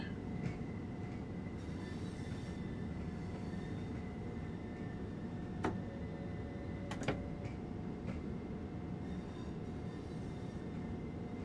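A train rolls past on a railway line, a long steady rumble with a few faint high squeals and clicks, heard from a moving train waiting for the rear end to clear.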